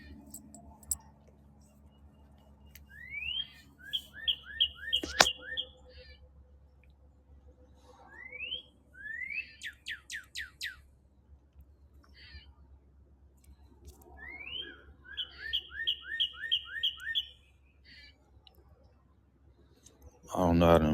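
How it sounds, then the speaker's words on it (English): Small birds sing and chirp in repeated clear, rapid phrases of rising whistles and trills. Quiet clicks and other faint sounds continue underneath. "Even the birds like to hear the Torah."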